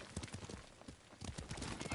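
A horse gallops in the video game Ghost of Tsushima, its hooves pounding in a quick regular rhythm that grows louder in the second half, with no one speaking.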